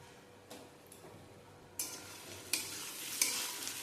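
Spice paste of Kashmiri red chilli powder, salt and a little sugar is fried and stirred in a pan for vegetarian dhokar dalna; soft at first, then a bright sizzle rises with a few spoon knocks, close and without speech.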